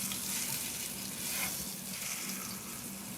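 Short ribs searing in a pan for braising, a steady broadband sizzle that holds at an even level throughout, with faint low rumbling underneath and no talking.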